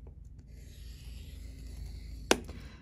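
Cardstock being scored with a scoring tool for a reinforced box: a faint, steady rubbing scrape across the surface, punctuated by one sharp click near the end.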